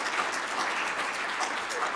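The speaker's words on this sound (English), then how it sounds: "Let me clap." Soft, even applause from an audience at a university faculty awards convocation, a brief steady patter of many hands at moderate distance.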